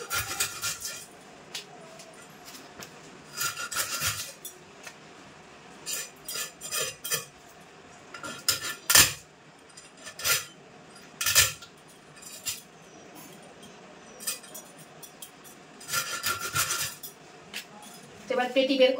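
A large fish being cut into pieces with a knife on a kitchen surface: repeated clinking blade knocks and scraping in irregular bursts, close and moderately loud.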